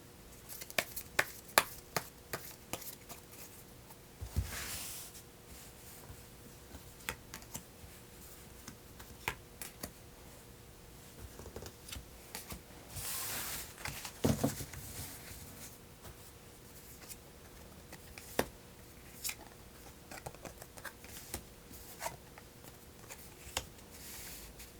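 Tarot cards are shuffled and drawn at a table: soft, irregular ticking and riffling taps and light patters continue steadily, close but quiet, with occasional louder brushes.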